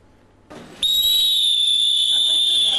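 A whistle of the kind issued to hospital staff gives a loud, shrill, sustained blast after a brief rising onset, holding steady for about two seconds, close and alone.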